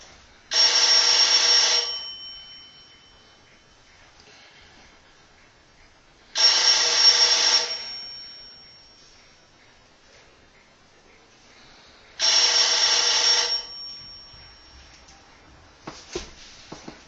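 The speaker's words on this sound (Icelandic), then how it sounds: "Og látum hann ganga 3 hringingar." An Ericsson L&M telephone from 1920–1930 rings three times with its bell, each loud, bright burst lasting about a second and a half, separated by roughly four-second pauses. A few faint knocks and rustles follow.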